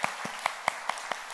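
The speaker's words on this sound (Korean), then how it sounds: "우리 축복의 박수 한번 보내주시고" A church congregation claps for newlyweds. Six sharp, evenly spaced claps ring out in a quick steady rhythm at moderate loudness.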